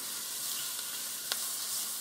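Chopped onions and shallot sauteing in a pan on a stove set to medium-high, a soft continuous sizzle with a faint crackle or two.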